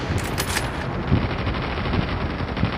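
Gunfire in Call of Duty Mobile, a sniper rifle battle, dense bursts of rapid shots and a few heavier thumps, loud and close in a continuous stretch of combat.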